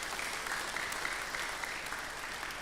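A church congregation claps for the Sunday school children at a Sunday service, a steady patter of many hands heard at a distance, moderately quiet and continuous throughout.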